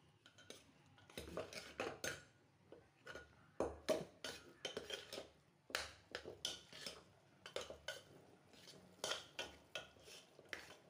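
A spoon mashes cooked moong dal and sago in a metal pot for payasam. Irregular scraping clinks and knocks of metal on metal come up close, with quiet gaps between strokes.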